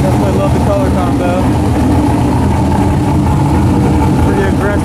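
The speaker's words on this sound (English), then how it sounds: "Pretty aggressive idle." A Corvette engine fitted with an S3.3 camshaft idles loudly and aggressively up close, a steady low rumble with a choppy lope, while people talk faintly over it.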